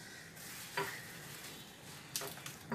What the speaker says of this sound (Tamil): இந்த மீனும் கொதிக்குது.